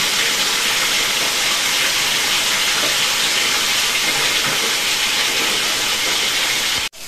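Tilapia fries in hot oil in a wok-style pan, giving a loud, steady, unbroken hiss that holds for several seconds before cutting off abruptly, with nobody talking.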